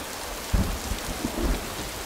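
Steady rain pours outdoors during a drama scene, a broad dense hiss with a few low thumping swells, moderately loud and continuous, with no voices on top.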